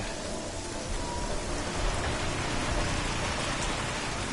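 Steady, heavy rainfall in the video game Deus Ex: Mankind Divided, set in London, hisses continuously, a dense even wash of drops with no voices.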